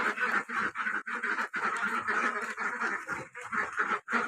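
Ducks being let out of their pen at a rural home, quacking in a dense, continuous chorus of overlapping calls, fairly close and loud throughout with no talk.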